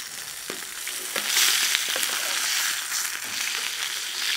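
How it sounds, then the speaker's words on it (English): Pepper steak au poivre sears in a hot pan over a fire, giving a loud, continuous close-up sizzle and hiss that swells midway and holds steady, with faint crackles and no voices. "I'm going to do that for about 2 minutes each side, get a good sear on it"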